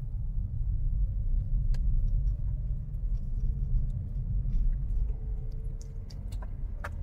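Tire road noise from a Toyota Vios limo on a residential street at about 30 to 40 km/h, a steady low rumble inside the cabin, with no talking.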